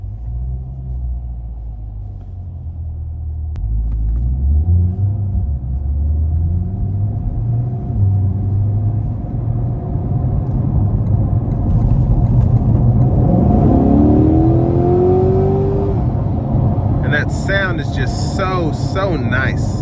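Chevrolet Corvette C8 convertible, a 2022 3LT Z51 with a mid-engine layout, accelerating hard from inside the cabin: a loud, steady engine rumble climbing in pitch through the gears, heard beneath someone talking.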